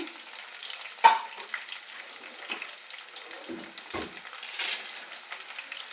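Onion, carrot and tomato pieces frying for sambar, a soft sizzle under scattered stirring knocks and scrapes of a spoon in the pan, fairly quiet and close, with no talking.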